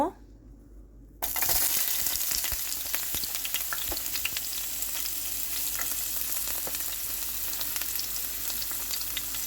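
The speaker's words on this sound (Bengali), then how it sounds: "এখন আমি রসুন কুচিগুলো সব দিয়ে দিব" Chopped garlic hits hot oil with dried chili in a pan for a taro curry, bursting into a loud, close sizzle after a brief silence and crackling on steadily.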